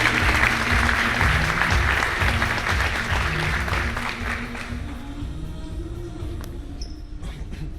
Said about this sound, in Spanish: Un aplauso para Karen.